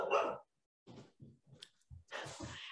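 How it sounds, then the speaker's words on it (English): A dog barks in the background as a few short, muffled yelps and woofs scattered between pauses, fairly faint. "Or their dog, barking in the background."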